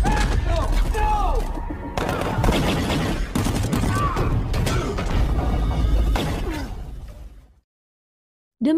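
Gunfire in a film shootout, with dense overlapping shots and metallic mechanical clatter that run loud and continuous for about seven seconds, then drop to silence.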